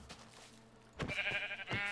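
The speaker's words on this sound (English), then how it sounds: "here's a sheep. Hey, sheep." A sheep in Minecraft bleats twice, close and clear, each call a short wavering cry, with quiet game ambience between them and no talking.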